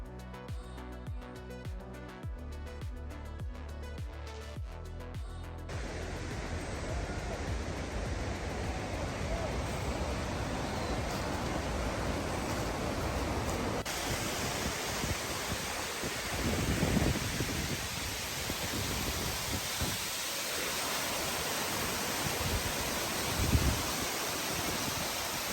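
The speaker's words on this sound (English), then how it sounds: "Hulugan Falls at 70 meters is the tallest waterfall in Laguna Province" Hulugan Falls, a 70-meter waterfall in Laguna, Philippines, roaring as a dense steady wash of water noise that fills the scene after a brief musical opening.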